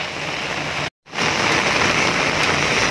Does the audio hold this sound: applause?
no